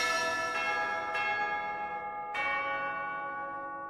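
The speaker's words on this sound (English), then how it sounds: "I like that bell tone." A resonant church bell tolls in the Fire Emblem Three Houses video game, its long ringing tones struck a few times and left to decay alone with no talk.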